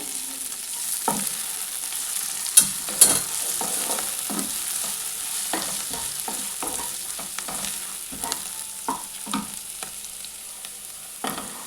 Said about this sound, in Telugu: ఇందులో కొంచెం కొత్తిమీర కూడా వేసి వేగించుకోవాలి